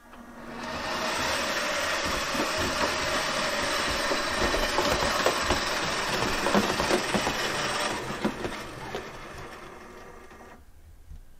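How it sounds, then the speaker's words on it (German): A Märklin 55326 gauge 1 (1:32) model of diesel locomotive V 320 001 runs under acceleration, its bogie motors driving all axles through gears and cardan shafts, giving a steady whirring mechanical hum with light clicking that fades out at the end. "Dass die Lok leider keine unhörbaren Laufgeräusche hat, liegt wohl daran, dass in jedem Drehgestell ein Motor alle Achsen über Getriebe und Kardanwellen antreibt."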